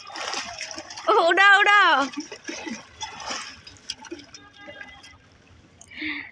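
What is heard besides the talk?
person taking a dip in water, splashing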